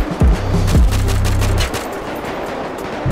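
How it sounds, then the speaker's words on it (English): Gunfire in the GTA video game, with two or three loud bursts near the start over a busy game soundscape, then fading into steady background noise. "Somebody's still shooting at me."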